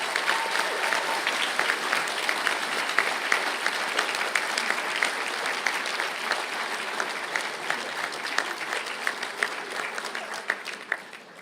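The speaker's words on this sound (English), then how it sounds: "I think that deserves a round of applause." A graduation audience at an ATU Galway conferring ceremony claps for the new graduates after the tassel turning; sustained, evenly dense applause from a large hall, with a few sharper individual claps standing out toward the end.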